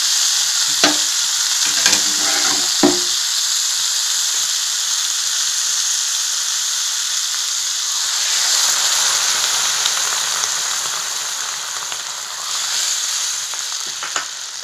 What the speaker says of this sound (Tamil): அது கொதிக்கட்டும்.